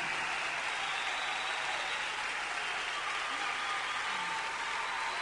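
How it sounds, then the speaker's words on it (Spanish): An audience applauding an award winner at Teatro Caupolicán: a dense, continuous wash of clapping from a large crowd that holds steady throughout, with a faint voice underneath. "a quien recibimos con un fuerte aplauso esta noche en el Caupolicán"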